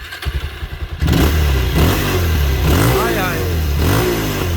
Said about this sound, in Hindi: तो भाई आवाज़ सुनियो भाई बड़ी मोटरसाइकिल की